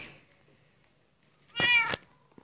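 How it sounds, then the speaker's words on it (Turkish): A house cat gives a single loud, clear meow lasting about half a second, close by, in an otherwise quiet indoor room. "Uy kedim."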